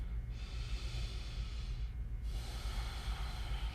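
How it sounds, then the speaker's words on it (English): Deep, audible yoga breathing during a flow sequence, a steady airy rush drawn in and let out close to the microphone, with one short pause in the middle and no talking. "we want to maintain that audible, deep breathing sound"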